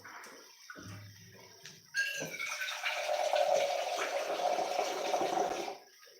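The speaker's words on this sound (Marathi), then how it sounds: "थोडंसं पाणी टाकलं" After a few quiet clinks, water pours steadily into a vessel for several seconds, then stops.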